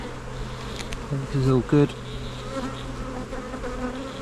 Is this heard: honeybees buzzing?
yes